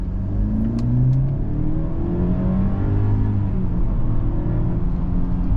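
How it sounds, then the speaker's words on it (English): A 2024 Mercedes-Benz GLE 350 accelerates from inside the cabin, a smooth, steady engine drone rising gradually in pitch with a low rumble, close and alone for several seconds. "let's do an acceleration"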